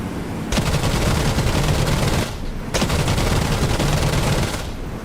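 WWII aircraft cannons firing in the DCS flight simulator game, two long, loud sustained bursts of rapid gunfire with a brief gap between them.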